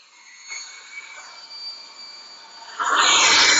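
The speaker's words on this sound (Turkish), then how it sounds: "Çamaşır makinesi sıkma sesi açtım." A washing machine's high mechanical whine during a spin cycle, building before a loud rushing roar takes over at the end.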